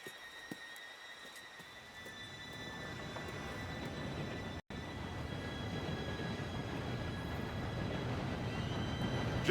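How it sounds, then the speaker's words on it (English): A steam-era train in the Red Dead Redemption 2 video game rolls in, its low rumbling clatter rising steadily from quiet to loud and continuous, with a faint high metallic whine above and a brief dropout partway through. "Train should be here any minute."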